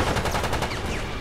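Rapid automatic gunfire from Resident Evil: Operation Raccoon City rattles in a loud, continuous burst of closely spaced shots.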